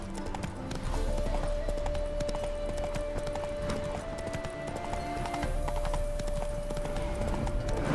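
Roach, a horse in The Witcher 3, trots with steady clip-clop hoofbeats up close, a brief whinny in the mix, over a sustained tonal game soundtrack and ambient hum.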